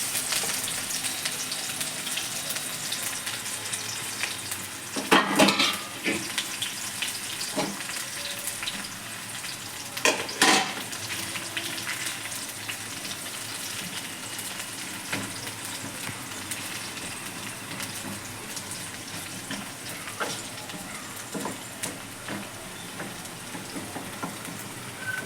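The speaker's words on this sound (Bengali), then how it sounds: "আমি এখন অল্প একটু পেঁয়াজ দিয়ে এটাকে বেরেস্তা করে নেবো।" Sliced onion sizzles steadily in hot oil as it fries into crisp berista for a wedding-style doi katla, a constant near hiss broken by a few louder stirring clatters around the middle, with no voices.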